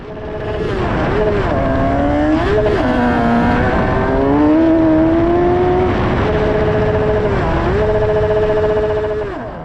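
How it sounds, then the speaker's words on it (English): A loud F1000 race car engine with its throttle stuck open, holding at high revs during a race, droning steadily with only small dips in pitch, close up and continuous. "I was having an issue with the throttle. If you listen, it keeps getting stuck open."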